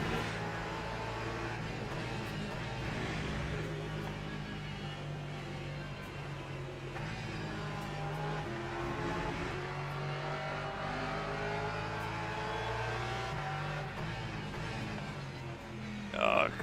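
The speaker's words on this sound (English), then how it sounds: "That's pretty quick for a Porsche." A Porsche race car engine drones steadily in the Le Mans Ultimate racing game on the Mulsanne layout, a constant mid-level hum with someone talking over it.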